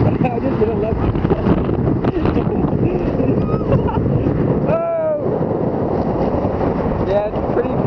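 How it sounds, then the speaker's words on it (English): Strong wind roars and buffets constantly while sailing a Hobie 16 catamaran on open water, with the rush of waves mixed in and a brief faint voice-like tone partway through. "Yeah, it's pretty fucking windy out here."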